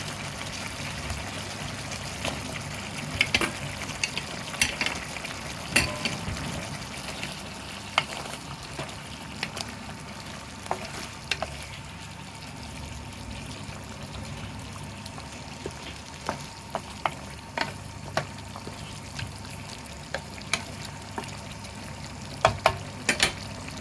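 Potatoes sizzle steadily in a pan of kaldereta with pork spareribs and pineapple, a soft constant frying hiss dotted with light clicks and stirring scrapes, no talking.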